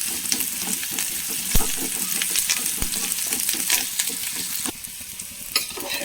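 Chopped shallots fry in a pan with papaya, giving a steady, close sizzle broken by occasional scraping clicks from stirring, with no voices.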